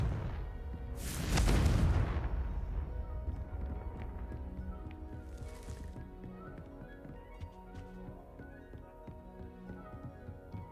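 A Confringo spell blast goes off in Hogwarts Legacy as a single loud, broadband burst near the start, then fades into quieter game ambience with a faint second whoosh.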